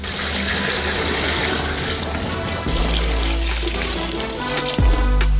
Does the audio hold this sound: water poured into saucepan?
yes